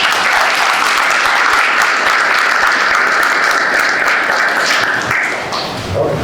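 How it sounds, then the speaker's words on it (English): A room full of people at a school board meeting claps steadily for several seconds, the applause tapering off toward the end. "So that's why we give her a round of applause."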